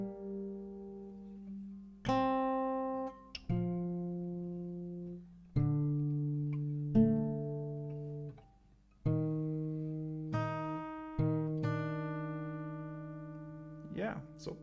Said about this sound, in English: I'm gonna play this full melody for you so you can be able to follow a little bit slowly